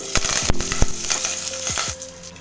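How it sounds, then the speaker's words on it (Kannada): Mustard seeds, chana dal and curry leaves dropped into hot oil: a steady close sizzle broken by several sharp pops and crackles of bursting seeds, with no talk. "ಎಣ್ಣೆ ಎಲ್ಲ ಚೆನ್ನಾಗಿ ಕಾದಿದೆ ಕಾಲು ಟೀ ಸ್ಪೂನಷ್ಟು ಸಾಸಿವೆ ಹಾಕೊಳ್ಳಿ ಅರ್ಧ ಟೀ ಸ್ಪೂನಷ್ಟು ಕಡಲೆಬೇಳೆ ಹಾಕೊಳ್ಳಿ"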